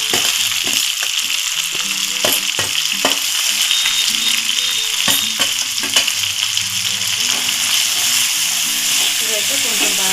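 Chopped tomatoes sizzle and fry in a pan with ginger garlic paste for an egg curry, a loud steady crackle broken by repeated scraping stirs of a utensil, with music playing faintly underneath.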